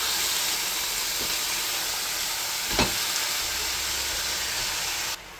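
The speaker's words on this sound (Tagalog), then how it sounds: "Same pan guys, igigisa ko na yung ating sibuyas. Then yung garlic. Then yung chicken." Onion, garlic and chicken sauté in a pan with a steady, loud, broadband sizzle that holds throughout, one brief stir or scrape near the middle, and the frying cutting off abruptly at the very end; no talking.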